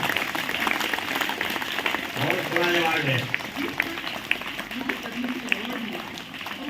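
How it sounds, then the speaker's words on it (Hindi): An audience applauds at a speech event honouring a Padma Shri award recipient, a broad clapping wash running under a speaker's voice. "जोरदार ताली बजाओ, पद्मश्री से नवाजा गया इनको,"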